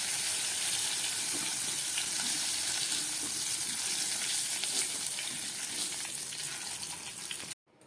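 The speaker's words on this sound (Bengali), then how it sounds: "চিংড়ি মাছটা ভাজা হয়ে গেছে" Prawns frying in hot oil in a pan: a steady, dense sizzle, close and constant for several seconds before cutting off abruptly near the end.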